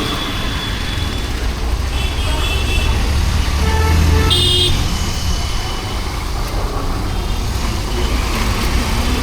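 Car horns honk in congested road traffic, several short toots sounding over a constant low rumble of engines from trucks and other vehicles close by.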